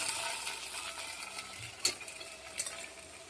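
Fried spices of dried red chilli, bay leaf and ginger being stirred into sago khichuri in a pan, a soft scraping stir with a faint sizzle and a few sharper clinks.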